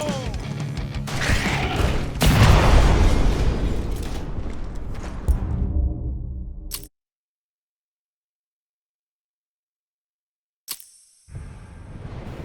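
A grenade goes off in the video game Werewolf: The Apocalypse – Earthblood with a heavy, crashing boom that rumbles and fades before the sound cuts to silence, then a short sharp click and renewed noise.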